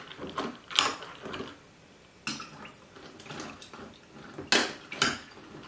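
Sliced carrots and cucumbers being mixed for cold canning, with clinks of a utensil against a bowl or jar and soft wet tumbling of vegetables, coming in short irregular bursts close by.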